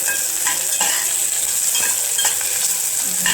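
Onion sautéing in ghee in a pan, a steady close sizzle with soft stirring scrapes and clinks recurring every half second or so throughout.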